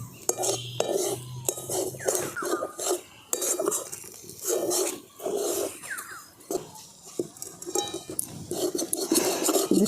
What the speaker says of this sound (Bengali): এবার এটা ঘিয়ের মধ্যে আমি দিয়ে দিচ্ছি। এবার ক্রমাগত এটাকে আমি নেড়ে যাব।